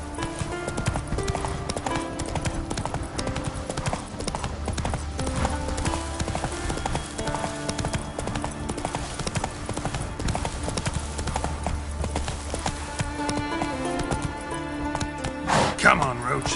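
Roach the horse gallops across Skellige in The Witcher 3, hooves clip-clopping steadily and close throughout, layered over continuous game music, with a sharper hit near the end.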